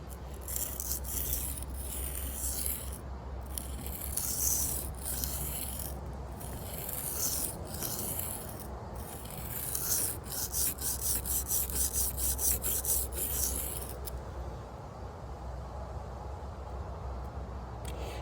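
An Ozark Trail knife blade is drawn across a sharpening stone in repeated rasping strokes, close and fairly quiet, with short pauses between passes and no talk.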